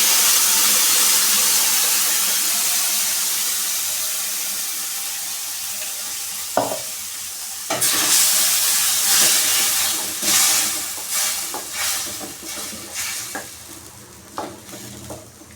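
A loud steady sizzle of a mustard and cumin seed tempering, then a wet splatter as ground paste for milk sambar is added and stirred, scraping and bubbling in bursts as the hiss fades.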